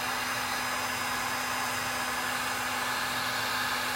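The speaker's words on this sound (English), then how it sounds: "I just put the heat gun right here on the paint." A heat gun blows steadily and loudly on painted furniture to strip the paint, a constant close-up whir and rush of air with a faint steady hum, unbroken for the whole stretch with no talking.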